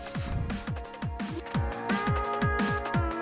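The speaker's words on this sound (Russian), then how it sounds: "хай-хетсы, то есть тарелки. Они звучат так." Hi-hat cymbals tick steadily in the high end of a music track, riding over a booming kick drum and sustained synth chords in a continuous loud mix.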